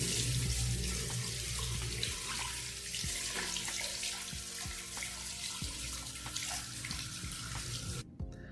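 A barber's fade brush is rinsed under a running tap, a steady close stream of water splashing into a sink with small knocks and drips, until the flow cuts off at the end.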